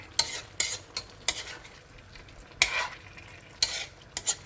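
A utensil scrapes and stirs pork frying in a pan with shrimp paste (bagoong alamang), giving repeated sharp metallic scrapes at an irregular pace over a soft sizzle, close up, with no voices.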